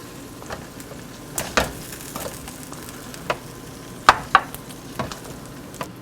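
Roasted veal bones are turned in a hot pan, with a soft continuous sizzle broken by several sharp knocks and clatters as the bones are moved, with no talk.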